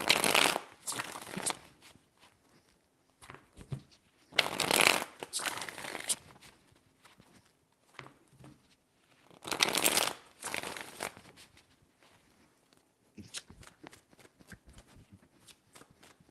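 Three loud bursts of tarot card shuffling snap and riffle close by, separated by quieter gaps of soft handling and light card sounds.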